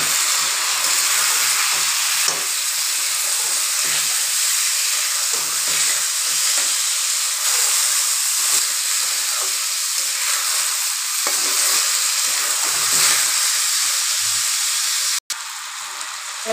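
Rice, vegetables and moong dal being fried in a pot for veg khichuri, giving a steady loud sizzle and hiss with occasional stirring scrapes, alone and close up.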